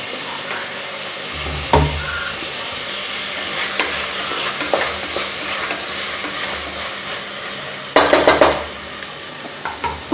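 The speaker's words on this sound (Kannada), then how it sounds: "ನೀವು ನೋಡ್ತಾ ಇರ್ಬೋದು ಚೆನ್ನಾಗಿ ಇದು ಫ್ರೈ ಆಗ್ತಾಯಿದೆ." Tomatoes fry in a pan with a steady, moderate sizzle, broken by occasional spoon scrapes and a burst of clattering stirs near the end, heard up close.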